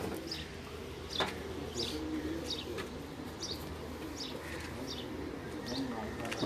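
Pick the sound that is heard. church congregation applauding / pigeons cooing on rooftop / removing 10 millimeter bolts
pigeons cooing on rooftop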